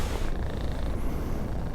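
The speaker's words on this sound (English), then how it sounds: "At least you're purring" A cat purring loudly and close, a continuous rhythmic low rumble with no other sounds.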